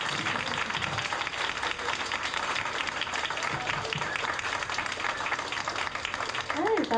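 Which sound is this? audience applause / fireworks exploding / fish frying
audience applause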